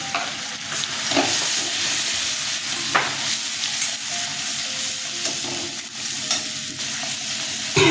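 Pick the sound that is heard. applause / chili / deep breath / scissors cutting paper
chili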